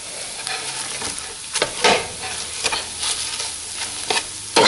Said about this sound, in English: I'll start mashing again